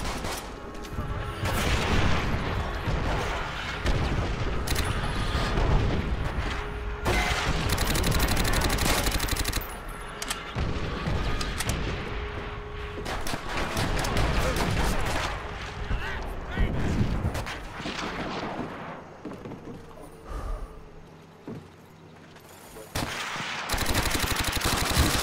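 Artillery strike in the World War II shooter Call of Duty: World at War multiplayer. Heavy booms and dense explosive rumble mix with continuous gunfire over nearly the whole stretch, and a voice talks through much of it.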